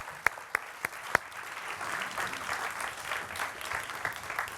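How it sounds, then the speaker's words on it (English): A few sharp, separate claps open, then a FameLab science-communication semi-final audience breaks into quieter continuous applause with scattered cheers, somewhat distant and soft. "Can we give them a round of applause?"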